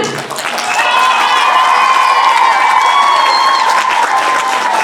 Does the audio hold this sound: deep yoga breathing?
no